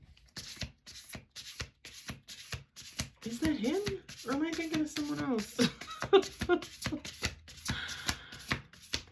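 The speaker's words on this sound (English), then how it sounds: "Last shuffle, by the way." Playing cards shuffled in repeated quick riffles, a crisp regular rhythm of rapid flutters running throughout, close and clear under a person talking casually.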